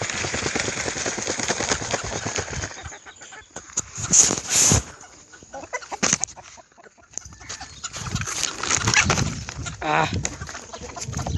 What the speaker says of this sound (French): Donc on a mon coq.